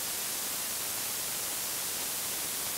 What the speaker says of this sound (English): we can keep it stuck in this noise state